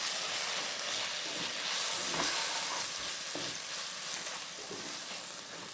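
Spiced chicken curry masala with coriander powder and garam masala is stirred in a pan, a soft continuous sizzle with scraping strokes of a spoon, fairly quiet and without talk.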